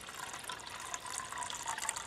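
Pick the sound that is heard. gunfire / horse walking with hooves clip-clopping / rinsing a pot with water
rinsing a pot with water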